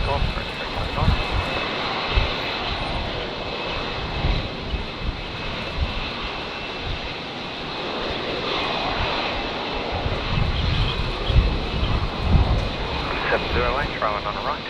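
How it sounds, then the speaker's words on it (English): An airliner takes off from runway 19 left at Brisbane Airport on a windy day, its engines a broad, rumbling roar rising and swelling throughout under gusty wind buffeting. "Right, 329 runway 19 left, clear for takeoff."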